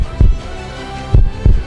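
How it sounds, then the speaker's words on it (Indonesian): Game heartbeat sound effect from Sakura School Simulator: three deep, thudding low beats, one early and a closely spaced pair near the end, over a steady soft music-like bed, with no talking. "Detak jantung lo sangat kencang."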